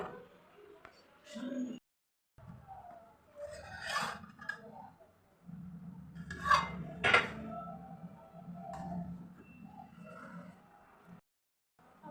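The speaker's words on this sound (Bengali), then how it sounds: "এবার আমরা ঢাকনাটা খুলবো" A lid is lifted off a pot of freshly cooked chicken biryani, giving scraping, rubbing metallic rasps and a few light clinks of cookware, with a voice talking quietly around them and brief silent gaps.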